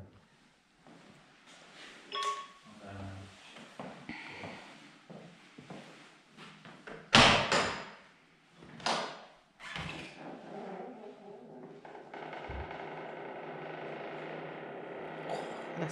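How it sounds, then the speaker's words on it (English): A door opens and closes inside a church, heard as faint creaks and knocks followed by one sharp, loud bang, a few softer thuds, and then a low, steady hum. "That's one spooky sounding door."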